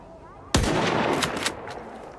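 A single loud gunshot cracks from a firearm in S.T.A.L.K.E.R. 2, followed by a rolling echoing tail and a couple of fainter distant reports, with no talking.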